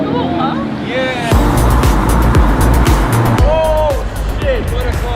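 A Lamborghini Terzo Millennio sports car revs and drives close by, its loud engine roaring in rising bursts over a steady rumble while people exclaim and talk around it.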